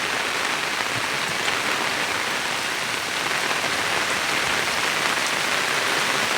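A downpour lashes a village, its thick, even roar of drops hitting surfaces holding loud and close throughout, with no talk.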